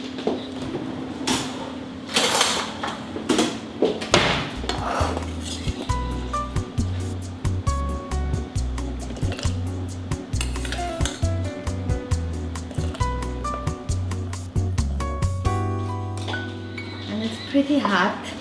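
A metal spoon clinks repeatedly against a pot while scooping hot Concord grape berries during preserve making, bright close taps in an uneven rhythm over a low steady hum, with a voice talking at times.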